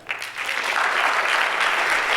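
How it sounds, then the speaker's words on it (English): Audience applause at a talk on games, a dense and steady wash of many hands clapping that swells quickly and holds loud for the whole stretch. "you guys all deserve a round of applause for how amazing you are"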